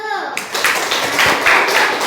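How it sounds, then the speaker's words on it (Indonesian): Students in a classroom clap for group 1, a short, close burst of brisk hand clapping that follows a brief voice at the start. "boleh tepuk tangan buat kelompok 1"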